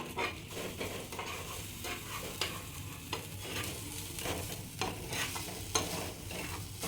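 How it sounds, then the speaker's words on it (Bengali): Spices being stirred into onions in a pan for an oil-free vegetable dish, with a steady scraping stir under a soft sizzle and periodic sharper spoon knocks against the pan, close and fairly quiet. "এবার মশলাটি ভালো করে আমি মিক্সড করে নেই।"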